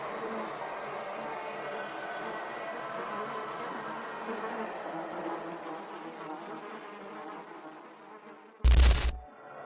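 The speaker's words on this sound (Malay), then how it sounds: "kali ini semakin banyak lalat yang datang dan berlegar di sekelilingnya" A swarm of flies buzzes continuously in a Borneo setting, a dense, steady hum lasting several seconds before a sudden loud thump near the end.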